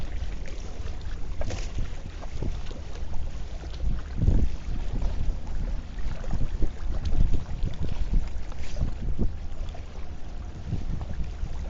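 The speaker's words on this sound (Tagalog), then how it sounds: "Lakas ang hangin." Strong wind buffets the microphone on low water during ultralight fishing, a continuous low rumble with gusty swells and faint splashing.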